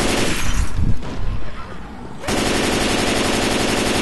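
Sustained automatic gunfire from Left 4 Dead 2 survival mode in the mall atrium, dense rapid shots at first, a short lull with scattered bursts, then a steady loud roar of continuous firing.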